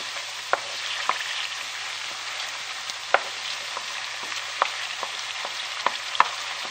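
Tomato paste roasting with onions in a pan for mercimek köftesi, a soft continuous sizzle punctuated by regular light clicks of a spoon against the pan; no talking.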